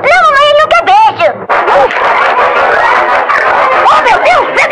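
A dog yips and barks in a chaotic household scene as people shout and talk loudly over it, the barking brief and partly buried under excited voices.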